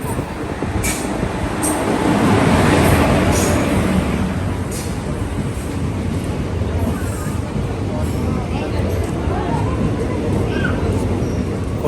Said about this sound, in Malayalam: ട്രെയിൻ വരുന്നുണ്ട് ശരിക്കും പറഞ്ഞാൽ പത്ത് മിനിറ്റ് ലേറ്റാണ്